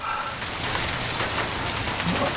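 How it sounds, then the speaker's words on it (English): Rain beginning to fall outdoors, a steady soft hiss of drops spread evenly across the whole moment, fairly close with no talk over it. "I don't know if you can hear it or not, but it's starting to rain"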